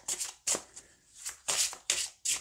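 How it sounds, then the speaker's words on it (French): Oracle cards being handled and drawn from a deck in a rapid series of crisp paper swishes and riffles, about six bursts, close and fairly loud, with no one talking. "on va tirer une carte des archétypes"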